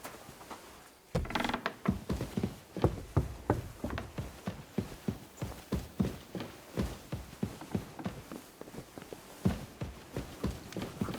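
Steady clip-clop of a horse's hooves in the video game Kingdom Come: Deliverance II, an even walking rhythm of sharp knocks that continues throughout at moderate loudness.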